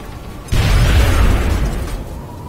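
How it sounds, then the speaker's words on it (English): A grenade detonates in XCOM: Enemy Within, destroying cover with a sudden loud booming blast that rumbles for about a second and a half before fading, no talking. "I'll pitch the grenade out. And I'll destroy the cover and it'll kill him."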